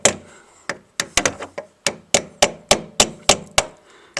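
An old screwdriver gently taps a notch round on a Suzuki Bandit in a garage, giving a quick series of about fifteen sharp, close metallic taps in a loose, uneven rhythm.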